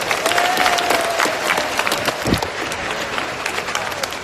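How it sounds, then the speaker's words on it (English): Audience applause fills a room at a speaking event, steady dense clapping throughout at moderate loudness, with a faint voice or whistle briefly above it. "Round of applause for Jalen Crawford."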